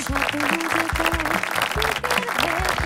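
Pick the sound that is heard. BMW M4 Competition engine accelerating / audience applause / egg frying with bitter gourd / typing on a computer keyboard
audience applause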